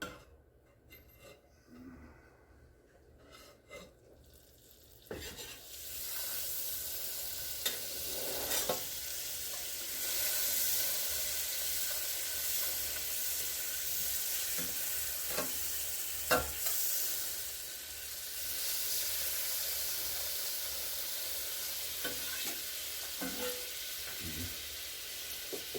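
Butter sizzles steadily in a Lodge grill pan, starting after a few quiet seconds of faint handling, then a loud, continuous crackling hiss with occasional sharper pops and scrapes throughout.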